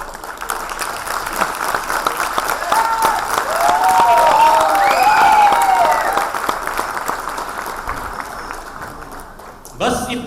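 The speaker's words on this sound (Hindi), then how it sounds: "बस इतनी सी ताली के साथ हम इस शानदार परफॉर्मेंस को आगाज दे सकते हैं, जोरदार तालियों के साथ।" An audience at a dastangoi storytelling performance claps steadily throughout, the applause swelling louder in the middle and then easing off, with a voice rising faintly over it.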